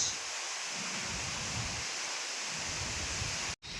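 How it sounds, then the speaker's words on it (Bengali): Rain with strong wind during a midday storm, a steady broadband rush of rain and gusting air, loud and continuous throughout, cutting out abruptly for a moment near the end. "দেখেন বাতাস কীরকম, যেরকম বৃষ্টি সেরকম বাতাস।"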